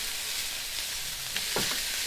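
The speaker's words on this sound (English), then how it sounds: "Hopefully you can hear me over the sound of the sizzling." Mince fries in a pan at a campsite, giving a steady, close hiss of sizzling fat with a couple of brief stirring scrapes.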